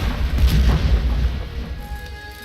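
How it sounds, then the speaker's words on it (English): A plastic explosive detonates in the Broken Sword video game, a loud deep boom with a rumbling low tail that fades over about two seconds, followed by a faint tone. "I thought plastic explosive needed electricity, not fire or other explosions to go off"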